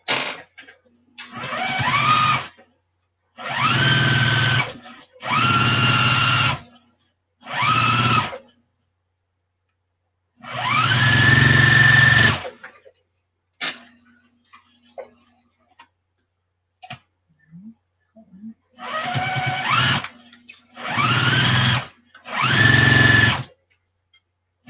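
A sewing machine stitches a Christmas pillow cover in repeated short bursts of rapid mechanical clatter, each lasting one to two seconds, separated by quiet pauses.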